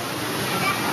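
Waterfall rushing as a steady broadband roar of falling water, close and continuous through a single second.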